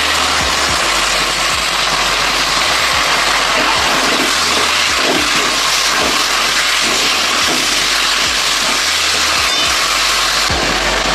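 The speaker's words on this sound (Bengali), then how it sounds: "আদা জিরে বাটা দিয়ে দিলাম" Ginger and cumin paste sizzles steadily in a hot cooking pan, a loud continuous hiss with faint crackles running throughout, no voices.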